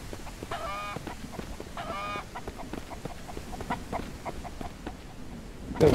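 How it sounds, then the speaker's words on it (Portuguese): A chicken in the Mist Survival survival game clucks in repeated bursts, two longer squawks early then a run of short clucks over steady ambient game noise, with no talking. "Cadê essa galinha?"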